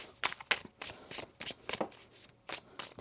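Tarot cards being shuffled during a reading: a close series of crisp, papery riffling bursts in an uneven rhythm, fairly quiet, with no talking over them.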